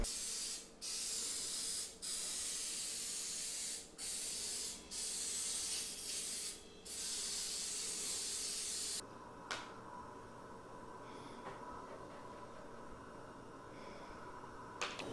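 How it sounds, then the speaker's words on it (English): Cooking spray hisses onto a non-stick cake pan in a series of loud, close bursts broken by short pauses, followed by quieter rubbing and handling sounds. "I'm still going to go ahead and spray it with cooking spray and then dust it with flour"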